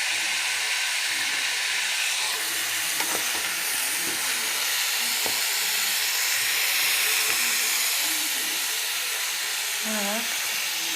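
Aubergine sizzles in a hot pan with garlic, giving a steady hiss and crackle with a few light clinks of utensils as it is stirred.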